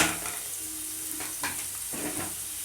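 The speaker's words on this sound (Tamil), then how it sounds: "மசாலா நல்லா மிக்ஸ் பண்ணி விட்டுருங்க." Onions, chilli powder, turmeric, garam masala and sambar powder sizzle steadily in a hot pan for okra stir-fry, with a few soft scraping stirs of a spoon cutting through the constant frying hiss.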